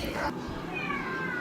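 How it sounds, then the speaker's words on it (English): A cat meows, stretched and wavering, close by in a home during a brewing day. It sounds over a muffled background, and there is some noise like speech. "The cat's trying to get out."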